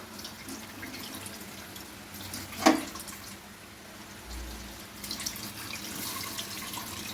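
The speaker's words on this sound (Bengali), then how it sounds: "এই থালাটা ধুয়ে একটু জল দিয়ে দেবো" A plate is rinsed under running water in a home kitchen, giving a steady close hiss of flow with a sharp clatter midway, then splashing that picks up toward the end. No one talks.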